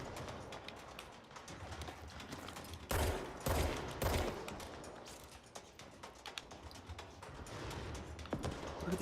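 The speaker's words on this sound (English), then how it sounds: "What are they shooting back at out there?" Gunfire in the video game Control, rapid bursts and clattering shots filling the scene at moderate distance, with louder volleys in the middle and no talk.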